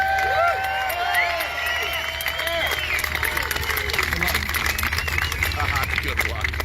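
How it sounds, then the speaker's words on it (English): Audience applause and cheering at a trucker convoy rally in Missouri, a steady crowd roar with whoops and voices mixed in, loud and continuous throughout. "I want all of you to give this woman a round of applause."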